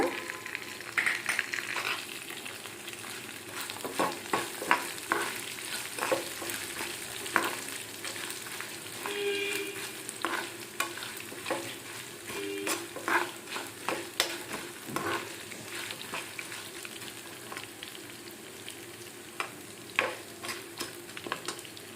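Coriander seeds, garlic and cumin fry in a pan for ginger chutney: a continuous sizzle runs throughout, with frequent scraping stirs and short clicks from the spatula.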